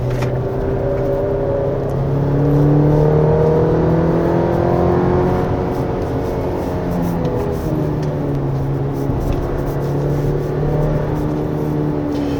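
A 2025 Chevrolet Colorado Z71 pickup drives a winding mountain road, its engine note rising and falling steadily in a near, continuous drone with shifting tonal hum and no talk.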